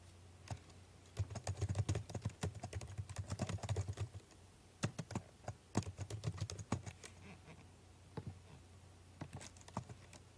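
Keystrokes on a computer keyboard while a button title is entered, in quick irregular bursts of close, crisp clicks with short pauses, growing sparser toward the end.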